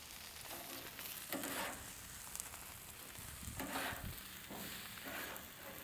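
Burgers sizzle gently in a pan, a faint steady frying hiss that swells in a few louder bursts, heard from a short distance with no talking.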